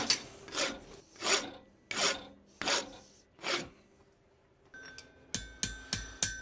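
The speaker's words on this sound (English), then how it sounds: "Using a rasp to straighten out the top edge." A blacksmith rasps the top edge of a metal piece, producing five loud rhythmic scraping strokes, a short pause, then a faster series of sharper, shorter strokes close up.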